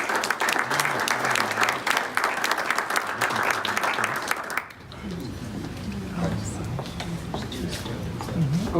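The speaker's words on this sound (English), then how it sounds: "if we could have a round of applause for Mark" A round of applause for Mark at a Paul Harris Fellow presentation, dense clapping from a room of people that fades after about five seconds, with talking and murmuring carrying on underneath.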